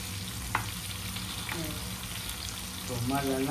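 Dhoma fish frying in a pan, a soft steady sizzle of oil heard up close with faint clinks and a brief tap, no talking.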